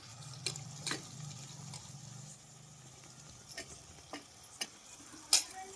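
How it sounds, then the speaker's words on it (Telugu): Eggplant frying with onions, green chillies and tomatoes in a pan gives a faint, steady sizzle, punctuated by a few sharp clinks and scrapes of stirring, close by with no voices. "ఇప్పుడు నేను వంకాయలు అయితే వేసుకుంటున్నాను."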